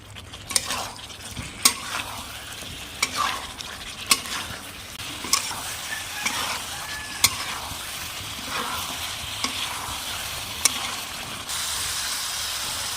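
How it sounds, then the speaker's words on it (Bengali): Potatoes stir-fried in spice masala for Kashmiri aloo dum sizzle steadily in the pan, with repeated spoon scrapes and clinks against the metal at irregular intervals, close and moderately loud, no voices. "এবার আলুটা দিয়ে দেব ভালোভাবে কষিয়ে নেব"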